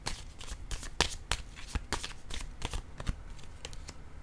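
Tarot cards are shuffled by hand in a quick, close series of crisp riffling snaps and soft slaps. The sound is fairly quiet and continues for several seconds without any speech.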